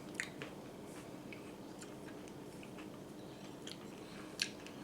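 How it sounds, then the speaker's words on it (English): A strawberry cream cheese dessert with a pretzel crust is chewed up close, with faint, soft, irregular bites and occasional small crunches and clicks. "Crunch from the pretzels and the saltiness."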